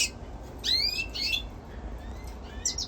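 Aviary songbirds, hooded siskin and canary mule hybrids, trill and chirp in a few bright bursts over steady background hiss, with fainter calls trailing off toward the end.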